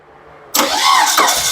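A Proton Wira 1.5 MMC with a low idle fires up suddenly after a quiet lead-in, the engine catching abruptly and running loud and close with a rough, uneven note.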